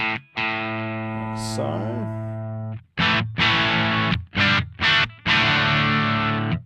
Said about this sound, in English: So if we start out with our overdrive sound